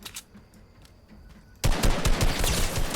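Video game gunfire erupts suddenly after a quiet stretch, a loud rapid burst of automatic shots with dense repeated cracks continuing to the end.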